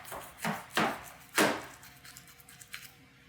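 A knife cutting into baked veggie lasagna, with three firm close chopping strikes against the dish followed by softer scraping and faint clicks.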